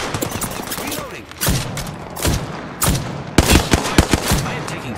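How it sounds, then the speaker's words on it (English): Gunfire in Apex Legends on PS4: repeated loud bursts of shots and fusillades, with heavier reports around the middle and end, and a player voice talking under and between the shots. "I am taking fire"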